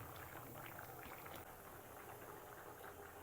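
Fish curry with kohlrabi bubbling hard in a pot, a steady close rolling boil with dense bursting bubbles and faint hiss throughout, no voices.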